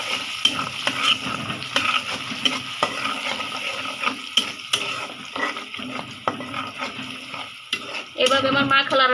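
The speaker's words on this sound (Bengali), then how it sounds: "এখন আমি রসুনটাকে ভাজবো" Garlic frying in a pan in a home kitchen, a constant sizzle broken by repeated scraping and stirring strokes of a utensil against the pan, with a louder burst of sizzling near the end.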